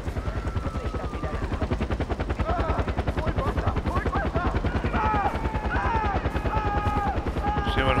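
A helicopter in the Far Cry 4 video game throbs steadily overhead with a fast, even rotor chop throughout, mixed with gunfire-like bursts and bright chirping game sounds, while a voice talks over it.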